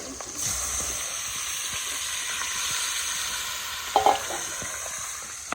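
Spice paste (masala) frying in a pan outdoors in a village setting, a steady broadband sizzle running throughout with faint stirring taps and a brief louder scrape near the end.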